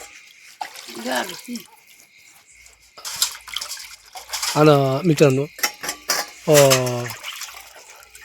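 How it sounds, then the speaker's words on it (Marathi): Pots and plates are scrubbed by hand with warmed water outdoors on a cold, dark village night: close, intermittent clinks and scraping with brief splashes in scattered bursts, while someone talks over them. "रात्रीची आपली जेवण झाली का भांडी घसूनच टाकायला लागत ना"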